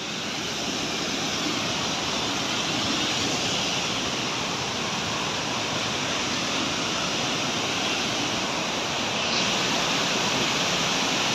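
A mountain river rushes below a steep trail at about 3,500 m, a dense, steady roar of water with no break across the whole stretch, close and loud.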